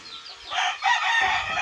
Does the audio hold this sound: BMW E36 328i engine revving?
no